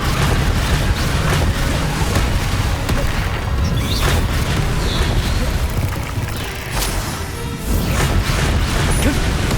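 Hogwarts Legacy on PS5 with a Confringo explosion spell: booming, crashing blasts over a steady, loud wash of combat sounds, with shouted voices at times.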